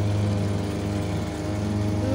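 A motorboat engine drones steadily at close range as a ride begins, a constant low rumble with a faint rising whine and no clear speech over it.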